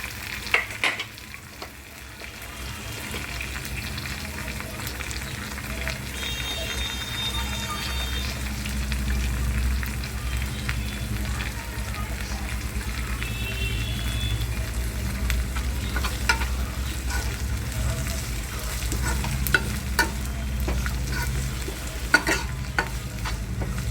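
Mixed vegetables stir-fried in a pan for veg pulao give a steady, close sizzle with scraping stirs throughout, and occasional clicks of a spoon against the pan.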